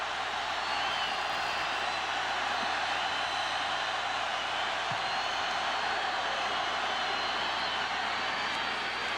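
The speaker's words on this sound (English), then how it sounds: "And the home folks saying, hey, defense, give us a stop here. Crowd on their feet down to our right." A big stadium crowd at the 1997 Iron Bowl college football game roars steadily and loudly, a broad unbroken wash of cheering that holds at one level throughout with no clear voices standing out.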